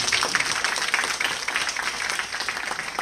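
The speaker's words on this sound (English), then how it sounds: "Let's give them a round of applause." Audience applause closing a religious yajna gathering, a steady wash of many hands clapping, moderately loud and continuous for a few seconds with little talk.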